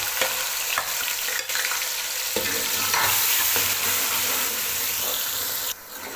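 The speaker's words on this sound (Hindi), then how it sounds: "मसाले को इकट्ठा ही भून लेंगे" Tomatoes, onions, chilies and spices fry together in hot ghee for a kachnar and chicken dish, giving a steady, loud sizzle and hiss with stirring scrapes and clinks throughout and no talking.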